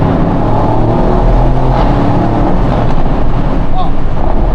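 A limited-edition sports car, one of only 99 built, roars loudly and close through its exhaust with the rear silencer open, a continuous heavy rumble mixed with wind buffeting and a faint voice underneath.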